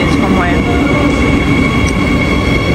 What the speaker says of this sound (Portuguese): Olha o metro daqui